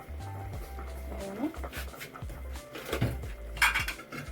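Metal kitchen clatter as a lid is set on a pot of vegetable soup, with a couple of sharp clinks among softer clanks and a low hum underneath.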